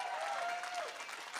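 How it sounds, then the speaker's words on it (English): Wedding reception guests applaud the groom's parents, a brief, faint, even patter of clapping with a sustained tone briefly audible. "Once again, can we give them a big round of applause?"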